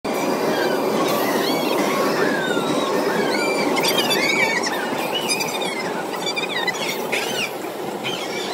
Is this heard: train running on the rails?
yes